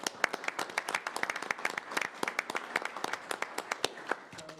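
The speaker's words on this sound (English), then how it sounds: "Let's give them a round of applause." A small group at a hospital board of managers meeting claps politely, producing sparse, distinct hand claps at a quick, uneven pace that stay fairly quiet and fade at the end.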